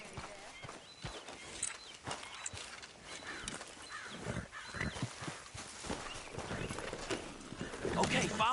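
Horse hooves clip-clop in the Red Dead video game as riders set off, a rhythmic trot under game dialogue with occasional snorts.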